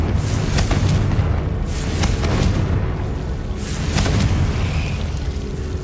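Confringo fire-blast spell in Hogwarts Legacy, with repeated loud booming explosions and crackling bursts in quick succession, dense low rumble throughout and several sharp impacts punctuating the roar.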